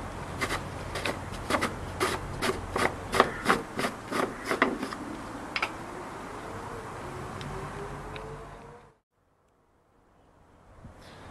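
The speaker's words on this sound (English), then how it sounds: "Unscrew the plug from your cleanout access point." A threaded plug is unscrewed from a plumbing cleanout access point outside near a house, with a run of scraping, rubbing grinds in quick succession followed by a smoother slide, then a brief silence.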